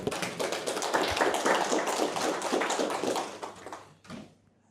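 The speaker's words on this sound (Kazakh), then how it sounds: "Давайте доғол шапалақпен қарсы алайық." An audience at a marketing seminar applauds to welcome a participant, with dense, lively clapping that fades out near the end, followed by a last few scattered claps.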